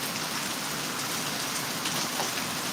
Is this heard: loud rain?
yes